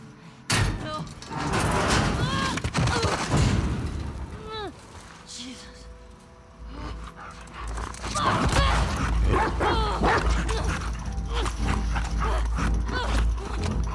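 A dog barks in The Last of Us Part II, a few sharp yelps and barks heard among hoofbeat-like footsteps, clatter and game noise, with a person talking over parts of it.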